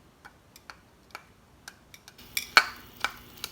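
A utensil mixes food in a dish, giving about a dozen light, irregular clinks and taps, with the last few louder and closer together.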